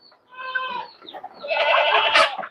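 Goats on a farm bleat twice, close and fairly loud: a short wavering call, then a longer, stronger one. A faint cluck of fowl comes between them.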